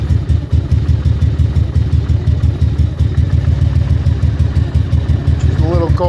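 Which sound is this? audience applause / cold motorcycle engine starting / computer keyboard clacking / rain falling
cold motorcycle engine starting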